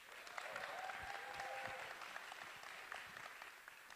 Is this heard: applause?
yes